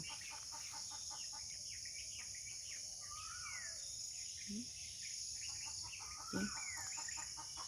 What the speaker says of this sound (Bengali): পাখির কিচিরমিচির শব্দ শোনা যাচ্ছে কি?